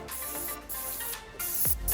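Paint sprayer applying exterior paint to vinyl siding, heard as a steady close hiss of spray that stays constant for the whole moment, with brief dips between passes.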